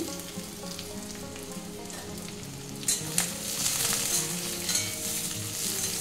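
Onions, garlic, ginger and nuts fry lightly in a pan, a close, even sizzle with occasional crackles and stirring scrapes that brighten partway through.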